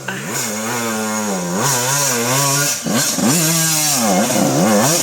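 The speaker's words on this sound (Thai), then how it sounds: "พี่ชาติ[[ควบรถสูตร CR 1 2 5ควบมาแล้วฮะเสียงลั่นลั่นนะ" A CR125 dirt bike's high-pitched two-stroke engine revs hard, its whine swooping up and down in repeated surges with only a brief dip, loud and close.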